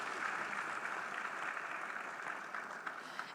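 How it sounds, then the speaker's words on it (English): A church congregation applauds in praise, a dense, steady wash of many hands clapping at moderate distance that carries on without pause from start to finish. "Let's clap for Jesus Christ."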